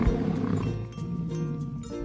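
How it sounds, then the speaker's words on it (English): A lion roars once, a deep, loud, rough growling roar that swells and then tapers off, heard alone and close. "L is for lion."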